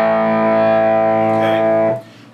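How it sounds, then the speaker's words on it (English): Heavily distorted electric guitar playing part of a song, one loud sustained chord ringing for nearly two seconds before being cut off abruptly. "he's got a lot more distortion on his guitar"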